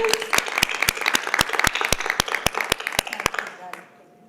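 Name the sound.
audience applause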